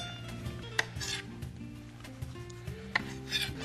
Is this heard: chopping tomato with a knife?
yes